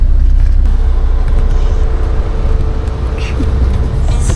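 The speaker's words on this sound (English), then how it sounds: "we're officially on the sleeper bus." Interior of a moving overnight sleeper bus in Vietnam, with a steady loud low engine and road rumble throughout and a few faint rattles.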